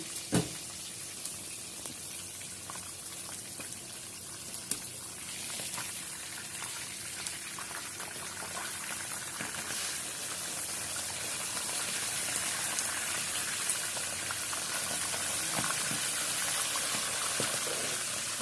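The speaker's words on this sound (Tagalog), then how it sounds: "Ang piniritong isda natin ay baliktarin na natin." Fish fries in a pan, a steady crackling sizzle with scattered pops that grows slightly louder and denser over time, with a few sharp knocks near the start.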